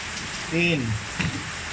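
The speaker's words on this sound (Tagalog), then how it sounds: "Ulan na ulan." Heavy rain makes a steady hiss throughout, and a brief voice rises over it near the middle.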